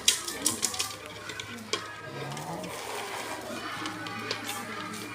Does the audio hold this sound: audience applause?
no